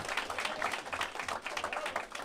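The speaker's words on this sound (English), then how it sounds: "That's all right to clap." Steady applause from an audience at a banquet celebrating FAMU's HBCU Football National Championship, many hands clapping evenly at moderate loudness with no speech over it.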